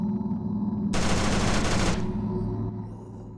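A burst of rapid machine-gun fire rips through a World War II video game for about a second over a loud droning soundtrack, then cuts off as the music continues.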